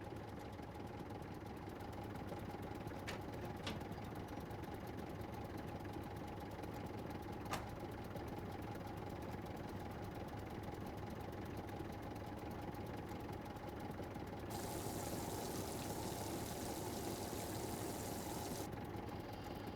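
A tractor engine idling in SCUM, a steady mid-pitched mechanical chug that runs unbroken throughout, with a faint hiss rising partway through and a few brief clicks.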